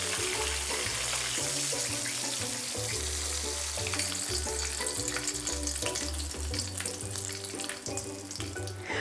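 A whole fish fries in oil in a wok after being turned with two spatulas, giving a continuous loud crackling sizzle with a few clatters of utensils against the pan.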